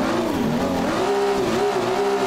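A Nissan Silvia S15 drifting in the racing game Assetto Corsa, its engine droning loud and steady at high revs with small pitch dips and rises as the throttle shifts, with no voices over it.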